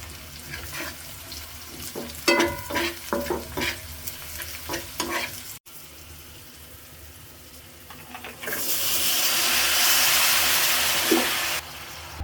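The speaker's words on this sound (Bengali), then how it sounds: "আজকে কড়াই ভর্তি সিম ভাজি করতেছি" Flat beans (shim) fry in a wok filled to the brim, giving a steady close sizzle with scraping stir strokes early on, then a louder, continuous hiss of frying toward the end.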